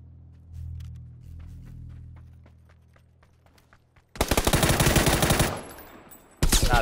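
Gunfire in a ranked competitive video game: a quiet stretch of single scattered shots, then a loud sustained burst of rapid automatic fire, a brief pause, and another loud burst at the end.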